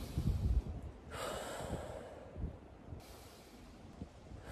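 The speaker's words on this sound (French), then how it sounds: "Respirez avec moi, hein." Deep breaths are drawn in and let out slowly during a breathing exercise, with a long, hushed inhale and exhale, heard close and fairly faint against a quiet background.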